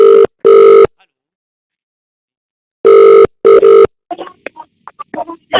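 A telephone line tone sounds after the caller hangs up: two pairs of loud, short, clean beeps separated by silence, followed by a voice that starts speaking.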